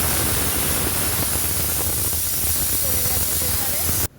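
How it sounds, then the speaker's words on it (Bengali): Pressure cooker venting steam in a home kitchen, a loud continuous hiss held for about four seconds before stopping abruptly. "প্রেসারের সিটি পড়ে গেছে"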